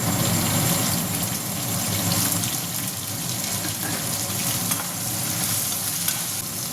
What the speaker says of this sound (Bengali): ফুলকপিটা যখন দিলাম তখন হালকা একটু নুন দেবো, তাহলে ফুলকপিটা তাড়াতাড়ি ভাজা হয়ে যায়।